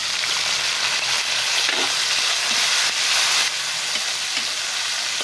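Onion and tomato sautéing with garlic in the pan left from cooking longganisa, a loud continuous hissing sizzle with a few faint stirring knocks underneath.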